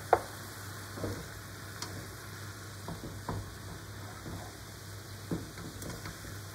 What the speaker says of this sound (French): Je remue le tout